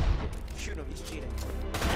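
Gunfire in the virtual reality shooter Pavlov, a close, dense burst of rapid shots with heavy low thuds that fill the whole moment, with a voice partly audible beneath it.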